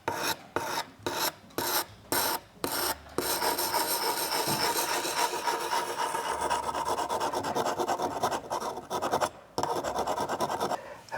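Hand sharpening the steep micro bevel of Okatsune pruning shears, a raspy filing and rubbing rhythm with short strokes at first, then a long continuous scrape, close and moderately quiet.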